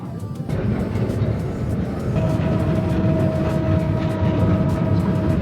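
Steady rumble of a train running on a heritage railway route in the Wadi Rum desert, Jordan, with rhythmic clicks of wheels over joints and a faint whine rising partway through.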